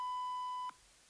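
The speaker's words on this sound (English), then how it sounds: "No, do the beep." A censor beep sound effect, a single steady pure electronic tone lasting about seven tenths of a second and then cutting off abruptly, loud and alone.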